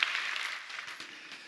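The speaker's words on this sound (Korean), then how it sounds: "한 번 더 박수." A church congregation applauds briefly and softly, a diffuse patter of many hands heard from some distance that fades quickly.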